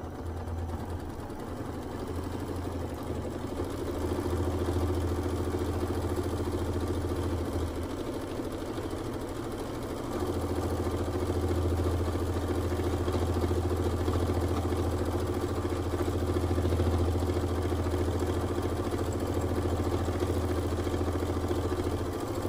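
Sewing machine running steadily while free-motion quilting a scrap quilt, a continuous mid-pitched motor hum with a brief slowdown partway through, close and alone with no talking.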